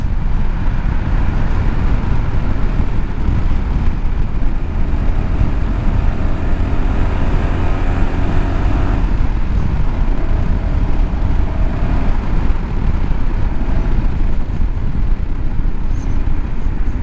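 A Honda ADV 350 scooter pulls away from traffic on a cold evening road, its engine a continuous loud drone that blends with heavy wind rush and road roar from start to finish, without a break.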